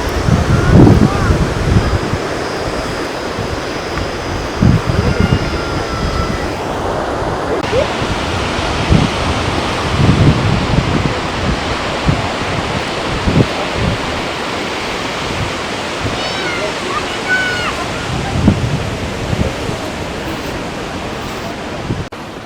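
Gaganachukki Falls plunges from a great height, producing a continuous, close, full-bodied roar of falling water, with gusts of wind buffeting the microphone throughout.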